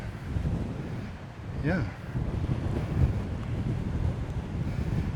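Strong gusty wind buffets the microphone on a beach hike, a steady low rumble of roaring noise throughout, with a brief voice heard under the buffeting.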